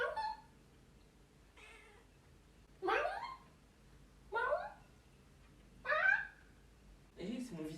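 A cat meows about five times, each a short rising call separated by pauses, fairly close and clear over a quiet background.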